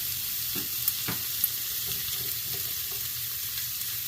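Shrimp stirred with lime zest, cilantro and lime juice in a hot pan, a steady close sizzle and hiss with a couple of soft scraping stirs, no talking.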